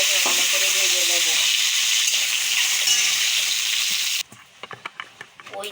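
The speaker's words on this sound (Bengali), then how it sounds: "ক্যারি বানানোর জন্যে আমি ডিমগুলোকে ভালো করে ভেজে নেব।" Eggs fry in hot oil for an egg curry, a loud, dense sizzle that holds steady for about four seconds, then drops sharply to quieter crackles and spatter with a few clinks of stirring.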